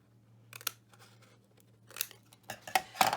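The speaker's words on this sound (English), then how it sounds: "Then bring in your scissors. You've got a little square in each corner. You're just going to snip that out." Scissors snip square corners out of paper while a 2020 desk calendar and folio are assembled, giving a few short, crisp cutting bursts in separate clusters over a faint steady hum, close and fairly loud.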